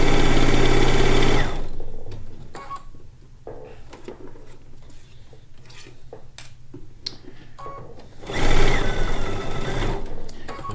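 A sewing machine stay stitching around the edge of a quilt top, loud rapid running bursts at the start and near the end, with quieter intermittent clicks and handling sounds between.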